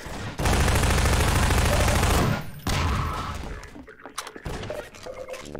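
Rifle fire from the video game Half-Life 2 hammers out in a dense automatic burst lasting about two seconds, followed by a second, scrappier run of shots and clatter, loud and close.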